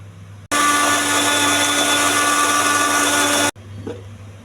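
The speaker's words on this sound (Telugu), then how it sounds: "మూత పెట్టి మిక్సీ వేసుకోవాలి." A kitchen mixer grinder blends grapes into juice, whirring loudly and steadily for about three seconds with the lid on, then cutting off abruptly to quiet.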